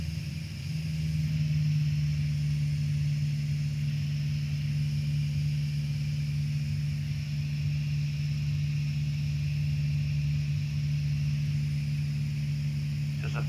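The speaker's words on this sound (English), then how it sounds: "Just a few more revs there, Adam" A light training aircraft's piston engine drones steadily and loudly throughout, a constant low hum with a cabin-like resonance, as the plane flies on a downwind leg before landing.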